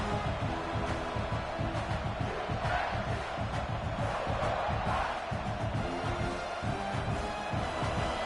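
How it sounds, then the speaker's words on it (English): Stadium crowd in a college football video game, a dense, steady roar of cheering and yelling that fills the whole stretch without a break. "This big crowd doing everything possible to inspire this defense down here near the goal line."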